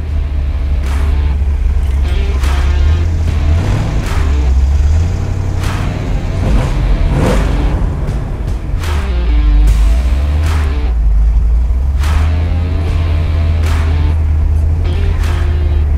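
A 1964 Corvette Stingray convertible with a 365 engine being driven, its loud engine note rumbling steadily close by with repeated rises as it accelerates through shifts.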